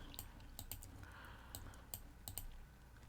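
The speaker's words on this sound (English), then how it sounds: "we're typing up notes from DM" Fingers tap a computer keyboard in quick irregular bursts of sharp clicks, close and fairly quiet, with short pauses between runs of keystrokes.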